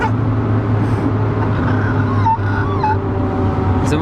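A Renault Super 5 cruises at about 140 km/h, heard from inside as a loud, constant low engine and road drone with wind rush for the whole stretch.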